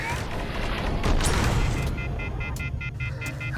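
Weapon fire in the VR game Space Pirate Trainer, with a rolling boom followed by quick, bright, repeated blaster zaps, loud and close over a dense game soundscape.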